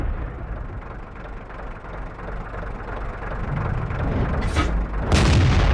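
Two sharp gun blasts from an SU-100M1 tank destroyer in the World of Tanks video game ring out near the end, over a continuous low engine rumble.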